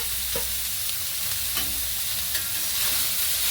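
Grated carrot frying in ghee in a pan, a loud continuous sizzle right up close with a few spatula scrapes and stirring knocks breaking through, no voices.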